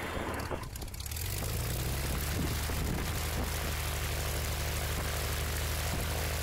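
Light propeller airplane engine revving up for a pre-takeoff run-up at a small confined airfield, a loud, steady, close droning roar that builds in the first second and then holds constant throughout, with no voices.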